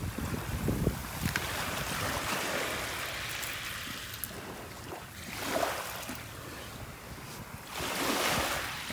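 Gulf beach at Delnor-Wiggins in the morning, where ocean waves wash ashore in slow surges that rise and fall every few seconds under steady wind noise, with no voices.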